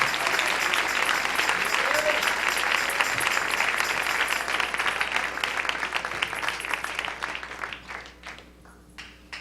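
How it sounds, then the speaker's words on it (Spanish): Church congregation applauding in a large room, a thick sustained clatter of many hands that thins and fades over the final seconds. "Dale un aplauso al Rey."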